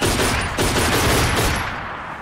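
Sustained heavy gunfire in the World War II stealth game Velvet Assassin, a dense, loud continuous barrage of shots that tapers slightly at the end, no talking.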